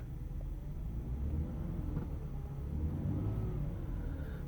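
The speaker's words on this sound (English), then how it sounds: "Car revs nicely." A 1997 Mercedes-Benz S320 engine is revved up close, a sustained low rumble rising and falling in two gentle swells with no voices.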